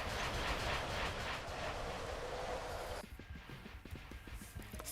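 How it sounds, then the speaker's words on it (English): A train pulling into a station in the Minecraft-based game Wynncraft, a loud rushing rumble that cuts off abruptly and gives way to quieter, rhythmic clacking as it slows. "Train's here."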